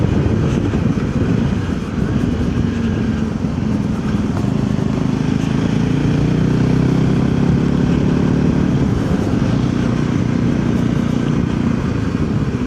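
A Voge 300 Rally motorcycle ridden on the road, its single-cylinder engine droning steadily with wind rush heard close from the rider's position, continuous with no pauses.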